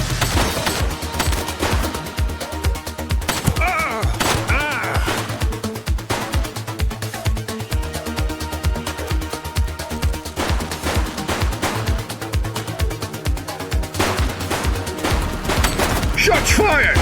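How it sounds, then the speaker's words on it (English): Rapid gunfire from a police shootout in the video game The Precinct, with dense bursts of automatic shots and single cracks that run steadily and loudly for the whole stretch over a game soundtrack. "Shots fired!"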